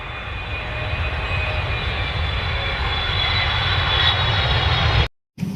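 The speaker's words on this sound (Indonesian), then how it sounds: "Wow, pesawat terbang." A toy airplane plays its recorded engine sound, a steady loud droning roar that holds for about five seconds, cuts out briefly, then resumes.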